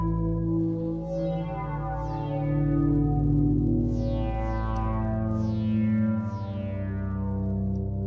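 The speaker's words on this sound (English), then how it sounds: "We've got chorus we can bring in." A sustained analog synth pad in Ableton with chorus brought in, a thick, wavering chord holding steady for several seconds with recurring shimmering sweeps and a gentle dip near the end.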